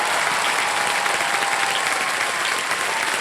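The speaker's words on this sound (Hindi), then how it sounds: "इतना जबरदस्त स्वागत आपने कर दिया है हमारा, और तालियों से आपने समा को एकदम बढ़िया।" Studio audience on a televised quiz show set clapping enthusiastically in welcome, a dense, steady roar of applause that fills the whole stretch without a break.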